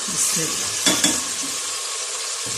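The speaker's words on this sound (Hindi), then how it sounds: "मसाले को मैंने अच्छी तरह भूनना है" Salt, chili and turmeric powder frying in a pan for a Punjabi turnip and meat curry, stirred steadily with a loud, close sizzle and a couple of sharp scrapes partway through, no voices.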